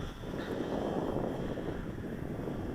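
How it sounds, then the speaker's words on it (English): PZ Super Cub CutWing RC plane with a 450 brushless motor making a dive fly-by at a radio control flying field, a steady whirring drone mixed with wind buffeting, fairly constant in level throughout. "Bring her in for a nice dive by"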